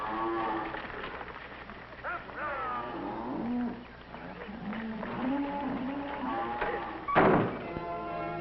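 Cattle low repeatedly on a farm in a series of deep, drawn-out moos, fairly near and overlapping, with a sharp thunk near the end.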